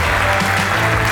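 Dense audience applause at a DockerCon EU 2018 general session, a continuous loud wash of clapping filling the whole short moment without a break.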